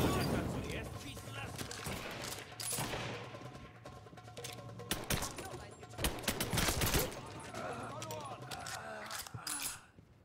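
Gunfire in the video game Mafia III: rapid, dense bursts of shots and machine-gun fire, mixed with game sounds and voices talking over them.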